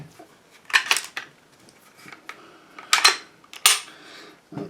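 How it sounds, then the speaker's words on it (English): Clearing a Glock 20 Gen 4 10mm pistol: a series of sharp metallic clicks and clacks of the slide and magazine, several distinct close-up snaps spaced irregularly with quiet gaps between them. "I'm going to have to go ahead and clear the weapon"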